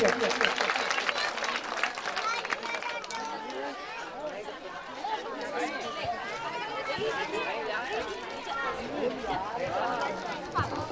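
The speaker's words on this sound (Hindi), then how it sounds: "मैं सभी से अनुरोध करूँ कि सब इन सोनी जी का तालियों द्वारा स्वागत करिए भैया" Audience at a Shrimad Bhagavat Katha religious gathering in Nangli village, Ichhawar, Sehore, clapping to welcome a guest, the applause mixed with steady crowd chatter and babble throughout.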